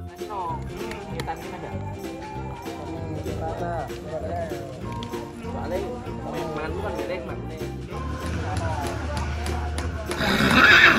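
A white horse whinnies amid the bustle of a village workshop where residents build parade floats for a Takbir procession in Mranggen, with steady crowd chatter and voices throughout and a louder burst near the end.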